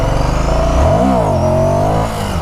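2016 Ducati Scrambler Sixty2 motorcycle engine revving hard during a wheelie, one loud close surge that climbs and holds, then drops as the throttle eases.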